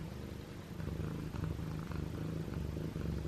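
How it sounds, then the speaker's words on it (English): Steady, loud cat purring close by, a continuous low rumbling rhythm with no voices. "He purrs so loud."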